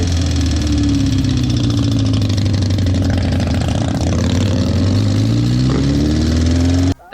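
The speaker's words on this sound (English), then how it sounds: "That sound right there was the sound of the cam chain." A cafe racer motorcycle engine idles loudly and steadily, a rough mechanical rattle from a noisy cam chain running through the low drone, continuous and close until it cuts off at the very end.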